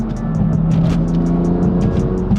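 A BMW M car, a 1M or M2, spins its wheels under hard acceleration. The turbocharged engine roars loudly and steadily, with sharp repeated chirps or whistles over it throughout the short burst.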